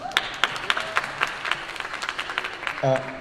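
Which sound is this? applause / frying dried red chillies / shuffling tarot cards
applause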